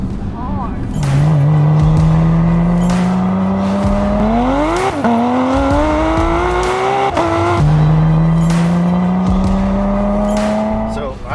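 Porsche Carrera 991.2 race car accelerating hard, the engine note climbing steadily through the gears with quick shift breaks, loud and close, with a brief tire squeal.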